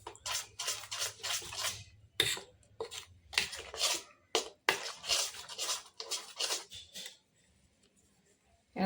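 A spoon scrapes and stirs chutney with sugar in a bowl, producing repeated short scraping strokes in an uneven rhythm, close and fairly quiet, ending in near silence.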